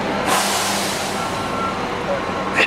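A truck runs close by with its reversing beeper going, a steady engine rumble under intermittent beeps, at an outdoor event in Vancouver.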